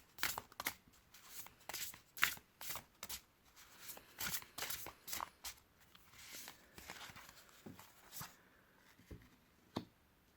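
A deck of playing cards being shuffled and cut into piles: a series of crisp riffling and snapping card sounds at close range, irregular and fairly quiet, with no talking.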